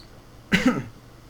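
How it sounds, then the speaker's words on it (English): A single brief, close cough, a quick two-part burst, from a player during a computer strategy game session, with otherwise quiet surroundings. "I started coughing for no reason."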